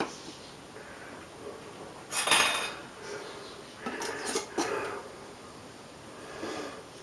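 Metal canning jar lids clink and clatter during chicken stock canning, with a loud burst of handling about two seconds in, then a quicker cluster of clinks a little later, over a quiet room background.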